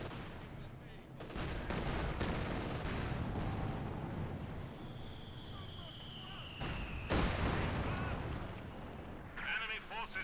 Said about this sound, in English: Panther 4 tank destroyers there, shooting all across